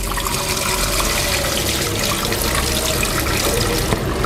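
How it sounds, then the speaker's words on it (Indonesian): Water splashes and pours continuously while ingredients for halua sweets are being washed, a steady, close rush of liquid lasting a few seconds without speech. "kita cuci pelan-pelan, kita buang lagi airnya."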